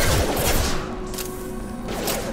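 Dense gunfire from a firefight in the sci-fi shooter Mass Effect Legendary Edition, loud and continuous, with rapid overlapping shots and impacts filling the scene.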